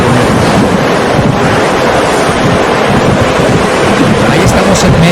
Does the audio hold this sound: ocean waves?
yes